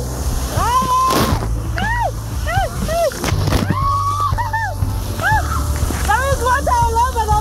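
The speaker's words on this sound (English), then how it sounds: "There is water all over the place!" Water splashes and sloshes at a kids' swimming pool in a water park, under excited, shouting voices close by, with a steady background rumble.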